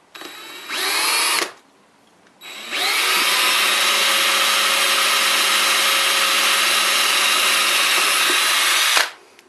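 A power drill boring a hole near a mounting hole, sounding first in a short whining burst, then stopping briefly before a longer steady high-pitched run that cuts off abruptly, loud and close.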